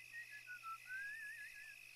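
A faint, thin whistle rises and falls through a short wavering melody, first in brief notes then one longer gliding phrase, over a low hum.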